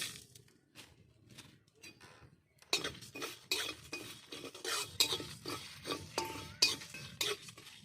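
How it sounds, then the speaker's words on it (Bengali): Dried red chilies, cumin and panch phoron dry-roasting in a pan for mango pickle: a quiet start, then a run of close, repeated scraping and stirring strokes with faint metallic clinks, no talking. "শুকনো মশলা ভেজে নেব শুকনো লঙ্কা জিরে একটু পাঁচফোড়ন"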